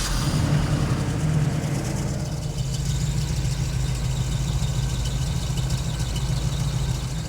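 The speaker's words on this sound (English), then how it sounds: "So the next step is to fire it up, get the engine up to temp, and set the base timing." Chevy Nova small-block V8 converted to self-tuning EFI, idling steadily with a low, even rumble, close and continuous throughout.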